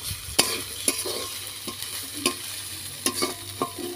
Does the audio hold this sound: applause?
no